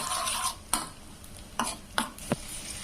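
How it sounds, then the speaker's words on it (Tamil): Cashews and raisins fry in ghee for boondi laddu, heard as a soft sizzle with several sharp scrapes and clinks of a spoon stirring the pan, close and fairly quiet, with no talking. "நெய்யில் முந்திரி திராட்சை நல்லா வறுபட்டுருச்சு"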